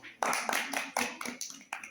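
Children in an English lesson clap their hands together in several quick bursts of applause, each burst starting sharply and fading, loud and near, with no talking over it.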